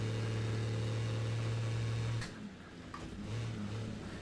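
A steady diesel car engine drone in the racing game Wreckfest 2 holds a low pitch, then cuts off abruptly and returns more quietly at a lower idle.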